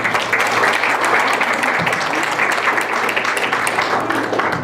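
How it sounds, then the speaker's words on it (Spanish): Conference audience applauding to welcome a speaker, with steady, dense clapping from a large crowd that stays loud and even for the whole stretch. "les pido le podamos dar un aplauso y bienvenido"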